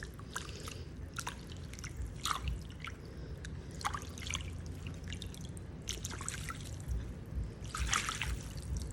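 A hosta clump is shaken in a wheelbarrow pool of water, sending irregular splashes and drips over a low steady rumble, with louder bursts of spattering near the end.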